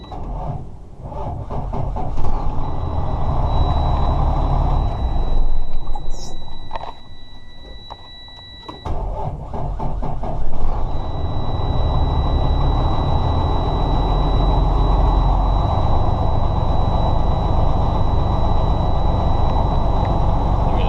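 A manual-transmission car engine cranks and starts in neutral with the clutch held in, a brief gap, then settles into a loud, steady idle running close by, with a whining tone over a heavy low rumble.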